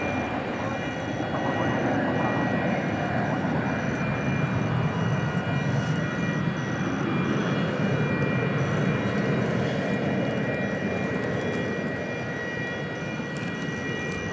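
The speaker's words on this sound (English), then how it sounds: "(737-800) coming in from San Antonio, Texas, American flight 2068" American Airlines Boeing 737-800 arriving at DFW Airport at night from San Antonio, a loud, steady jet engine roar with a high whine that holds throughout, heard close and alone.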